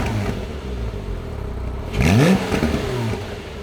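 A Porsche Cayman 3.4L sports car engine idles with a muted burble through closed exhaust valves, then revs up sharply once, climbing and falling back to idle.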